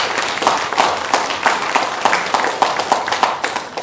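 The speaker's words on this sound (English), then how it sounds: "Let's give ourselves a big round of applause." Audience at a 2016 Asian and Pacific Islander health justice forum gives a round of applause, a dense, steady wash of many hands clapping close by for several seconds with brief louder swells and no talk.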